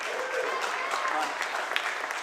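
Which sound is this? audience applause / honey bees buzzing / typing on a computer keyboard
audience applause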